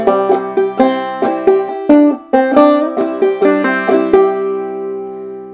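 A clawhammer banjo plays measures of the old-time tune Colored Aristocracy: bright, twangy plucked notes and brushed strums in a bouncy rhythm, close and clear, with a final note ringing out.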